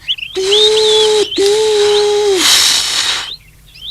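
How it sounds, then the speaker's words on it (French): A steamboat's steam whistle blows in loud, sustained blasts, two long tones with a brief break between them, then a hissing rush of steam. "les deux bateaux commencent à avancer et sifflent tant qu'ils peuvent."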